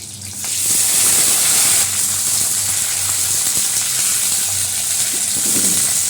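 Broad beans and potatoes fry in a hot pan with nigella seeds and green chilli, giving a loud, continuous sizzling hiss that surges at the start and stays steady with faint clinks.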